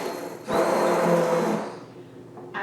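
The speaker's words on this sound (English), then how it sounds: "I'm going to take my immersion blender, and I'm going to start blending." An immersion blender whirs loudly through a pot of apple butter, running for about a second in one steady buzzing burst, then easing down before starting up again briefly at the end.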